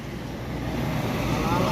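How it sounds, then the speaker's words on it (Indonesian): A Padang bus passing on an Indonesian road, a swelling rumble of engine and tyre roar that grows steadily louder across the short moment, with traffic noise around it. "Oke teman-teman, ini ada bus Padang ini."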